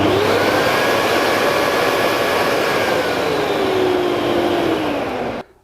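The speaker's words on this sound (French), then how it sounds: "Je lance ou j'éteins l'aspirateur uniquement en appuyant sur le petit bouton que voici." A workshop vacuum cleaner runs loudly with a dense, steady roar and a slight rising whine, then shuts off abruptly at the end when its remote button is pressed.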